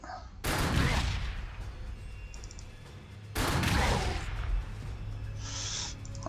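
Loud broadband bursts of battlefield gunfire from the strategy game Warhammer 40k Sanctus Reach, two heavy volleys about three seconds apart, each sustained for a few seconds with a rumbling low end and crackling texture.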